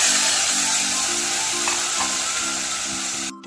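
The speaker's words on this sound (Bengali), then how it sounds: "এবার আমি ঝিঙ্গে বাটাটা এর মধ্যে ঢেলে দেব।" Ridge gourd paste sizzles in a hot pan with a continuous, close frying hiss, a faint repeating low scrape running underneath, and the sound dropping away sharply just before the end.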